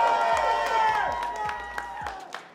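A crowd at a Brawlhalla doubles championship cheering and shouting after a win, loud at first then easing, with voices and amplified tones over the noise and a few claps near the end.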